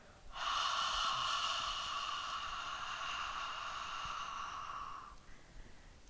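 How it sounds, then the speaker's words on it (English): A single slow, breathy "ha" exhale, voiced softly and held for about five seconds during a breathing practice, with quiet room tone before and after. "but a slow, breathy ha."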